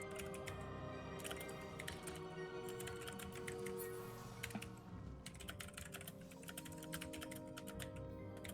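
Computer keyboard typing: steady, quick runs of close key clicks continue throughout with brief pauses, no voices.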